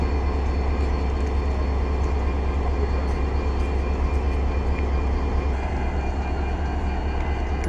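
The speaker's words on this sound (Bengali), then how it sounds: "স্টেশনে এসে দাঁড়ালো ঢাকা থেকে ছেড়ে আসা ট্রেনটি" A train from Dhaka stands at Joydebpur station, giving off a steady, loud low rumble with a constant broadband hiss that holds unchanged throughout, with no voices.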